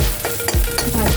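Garlic and ginger frying in a pan while being stirred, a steady close sizzle broken by a few scraping stir strokes, no voices.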